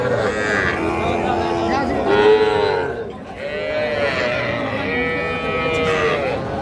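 A bull calf moos repeatedly with long, wavering calls at a livestock market, loud and close, with the murmur of other cattle and people in the background.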